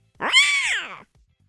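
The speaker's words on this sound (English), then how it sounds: "One soft meow, one quiet touch." A pet cat gives one soft, drawn-out meow of about a second, close and clear, rising then falling in pitch, with near silence before and after.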